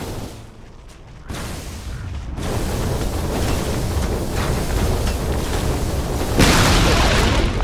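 A tower collapsing under attack in Dota 2, a dense roaring crumble that swells after a quieter start and holds as a sustained rumbling blast, brightening toward the end, with no talk.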